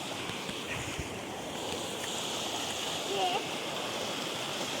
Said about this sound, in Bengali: দেখুন বন্যার জল বইছে